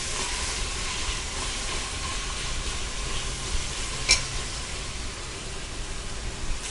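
Onions sautéing for mutton biryani in a pan on low heat, a steady close sizzle and hiss with a brief louder crackle partway through, no voices.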